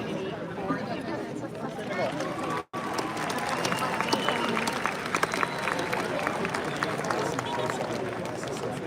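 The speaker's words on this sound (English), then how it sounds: "let's also cheer for the dedicated faculty and staff who have facilitated that opportunity for you" A graduation ceremony crowd at a college of science and engineering cheering and clapping for faculty and staff, sustained applause and shouts that fill the hall after a brief dropout, with chatter mixed in.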